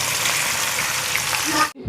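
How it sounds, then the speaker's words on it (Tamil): Seer fish fries in sesame oil with a steady, loud crackling sizzle that fills the whole clip, then cuts off abruptly near the end. "அழகாக சூப்பராக பொரித்து எடுத்துருங்க"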